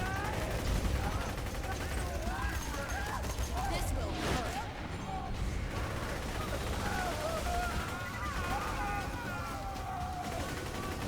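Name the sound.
gunfire from Maya's Hail gun in video game Borderlands 2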